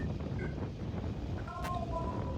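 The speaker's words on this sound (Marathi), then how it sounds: "गाडी खूप स्लो आहे पण वारा इतका होता की बघू शकताय" Strong wind rushes past a slowly moving vehicle on a rainy road trip, a constant broadband buffeting roar close to the microphone, with a few faint tonal sounds over it.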